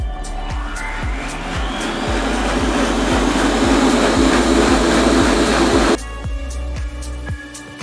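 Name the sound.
blender blending carrot, ginger and apple juice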